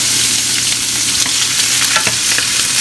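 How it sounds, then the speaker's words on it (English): Ham sautés in olive oil with a loud, continuous sizzle and frying crackle, joined by occasional scraping stir sounds, with no voices. "So put a little olive oil in there, and we are going to saute our ham"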